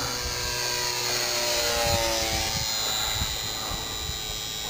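A Hobbyzone Supercub RC model plane flies fairly close overhead, its small electric motor giving a steady, buzzing high-pitched whine that holds at an even level for several seconds with no talk.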